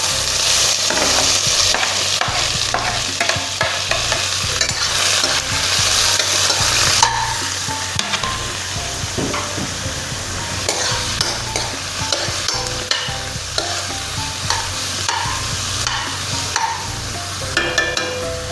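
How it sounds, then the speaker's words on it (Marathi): Onion frying in oil in a pan, a loud continuous sizzle with steady crackle running throughout, interrupted by frequent scraping stir strokes, close up with no talking. "आतां हांव एका आयदनाक तेल घालून हो पियाव बरो भाजून घेता।"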